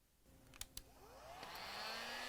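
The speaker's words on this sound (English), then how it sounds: "we're going to have to use a heat gun instead of a blow dryer along with the thermometer." A heat gun switching on to warm a gas dryer's high-limit thermostat, a couple of sharp clicks, then a rising whine as the fan spins up into a steady, close blowing roar.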